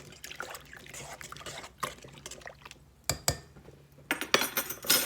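A spoon stirs yeast into warm water in a bowl for homemade pizza dough, making soft sloshing, light clinks and scrapes, quiet and close.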